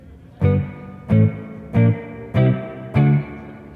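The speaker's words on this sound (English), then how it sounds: "it's a really nice spring sound that complements the echo, or just stands on its own" Five separate guitar notes ring out through a Strymon Volante spring reverb on its own, each a firm attack that swells and sustains briefly before the next, evenly spaced with no voices.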